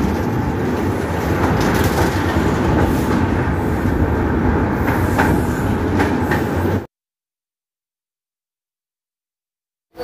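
A passenger train runs out of Kishanganj station toward NJP, a loud steady rumble with rhythmic wheel clatter heard from onboard for about seven seconds before cutting to silence.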